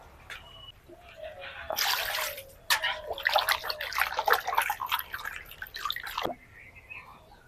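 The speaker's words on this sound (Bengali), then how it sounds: "আরও একবার পানি দিয়ে খুব ভালো করে ধুয়ে পরিষ্কার করে নেব" Pieces of ash gourd washed by hand in water, a few drips, then several seconds of busy sloshing and splashing close by, settling back to quiet drips.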